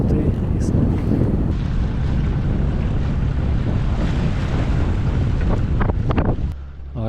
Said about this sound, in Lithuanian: O, kaip pučia fainai.